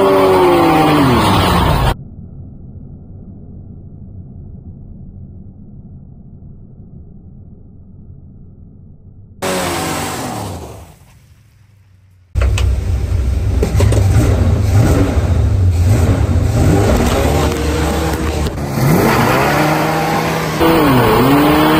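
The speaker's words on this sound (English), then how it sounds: "Now the moment you've all been waiting for. Superbird burnouts, obviously." A 1970 Plymouth Superbird roars loud and close through a long burnout, engine held at high revs with the pitch rising and falling. Sudden cuts and drops interrupt it before it surges back.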